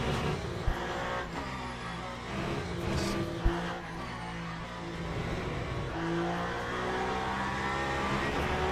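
Peugeot race car engine in the Le Mans Ultimate sim, a steady, fairly subdued drone that rises and falls slightly with throttle, continuous throughout with no talk.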